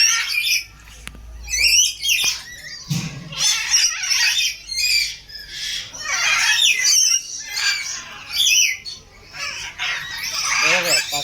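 Small black-and-red birds at a zoo squawk and chirp in frequent sharp bursts, fairly close and loud, with short pauses between calls.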